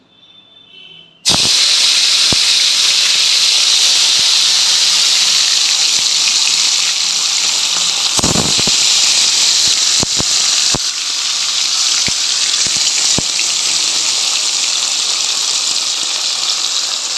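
Boal fish pieces hit hot oil with a sudden loud sizzle, then fry in a steady, dense hiss marked by occasional pops and crackles.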